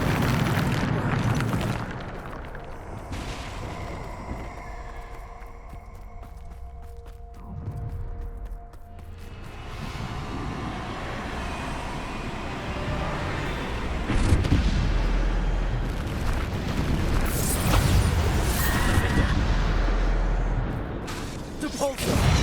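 Bombarda spell explosions in the fantasy video game Hogwarts Legacy, heavy booming blasts and bursts rolling through a busy combat soundscape with spoken spell calls and other effects around them.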